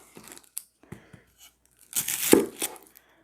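Papery onion skins are torn and peeled off by hand for homemade salsa, a few short crisp rips early and then a louder, longer crackling tear near the end, close and without talk.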